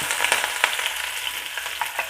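Close, lively sizzling of onion and chili frying in hot oil, with sharp crackles and spits popping irregularly.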